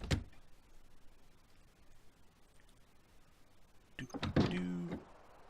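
A door in the snowy survival game The Long Dark swings open at the end, a creaking, juddering wooden scrape following a brief thunk, heard alone after a quiet stretch.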